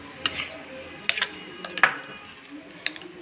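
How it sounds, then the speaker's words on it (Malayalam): Vegetable salad made from vegetable scraps is tossed in a bowl, producing a few light, sparse clinks and taps of a utensil against the dish over quiet background. "ഇനി നല്ലപോലെ ഇളക്കി കൊടുക്കാം."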